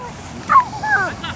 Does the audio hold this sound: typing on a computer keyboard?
no